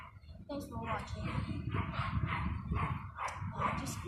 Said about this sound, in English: there's a dog barking there